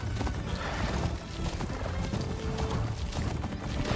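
Horse hooves clip-clopping at a gallop with loud neighing and whinnying in the video game Horizon Forbidden West, close and continuous over dense game sound.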